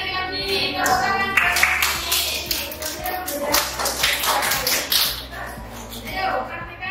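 A group of people in a coaching session claps their hands in uneven bursts and taps, with shuffling and overlapping talk and voices running through it.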